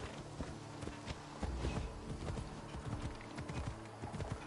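Hooves clip-clop in Assassin's Creed Odyssey as a horse walks and trots, a steady rhythm of soft thuds under game ambience, quiet and fairly close, with no talk.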